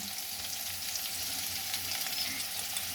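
Boiled chickpeas cooked with pumpkin fry in a pan, giving a steady, close hiss of sizzling with faint scraping as they are stirred, and no talk.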